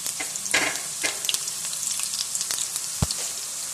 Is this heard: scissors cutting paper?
no